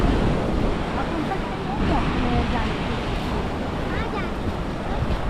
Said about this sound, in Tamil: கடலில் வந்து பார்த்திங்கன்னா காற்று அந்தளவுக்கு அடிச்சிட்ருக்கு கடல் பக்கத்தில்